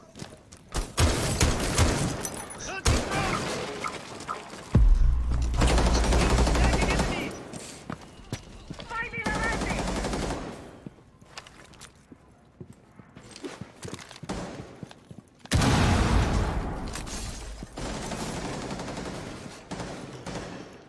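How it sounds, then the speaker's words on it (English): Gunfire in a video game rattles in rapid bursts, loud and dense, with sustained volleys and pauses between them and a low rumble underneath. "Who is shooting at you, Omar?"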